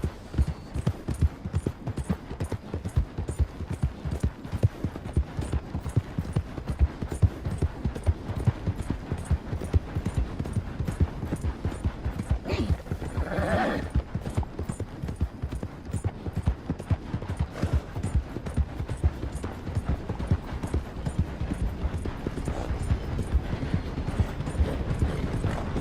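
Horse hooves gallop in Red Dead Redemption 2, a fast, even, continuous clip-clop rhythm close up for the whole stretch, with a brief muffled rustle in the middle.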